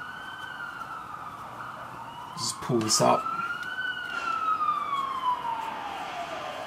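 An emergency vehicle siren on a Sydney CBD street on a Saturday night, one loud wailing tone that rises and falls steadily, with a short burst of street noise in the middle and someone talking briefly.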